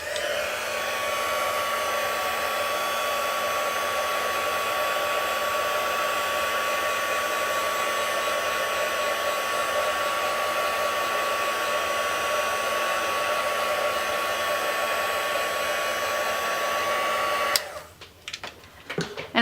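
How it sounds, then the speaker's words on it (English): A heat tool on its low setting dries a watercolour card, a loud continuous blowing whir with a steady hum that runs unbroken, then cuts off abruptly near the end, followed by a few small knocks. "Or you can choose to use your heat tool at the low setting and just dry it a little bit."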